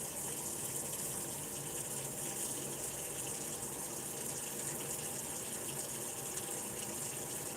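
Tap water pours steadily into a sink with the stopper in, a constant rushing hiss that holds unchanged throughout, close and without voices.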